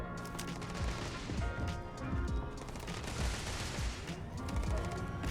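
Rapid laser pistol fire in the sci-fi game Starfield, a dense run of sharp repeated shots with booming low impacts, loud and continuous.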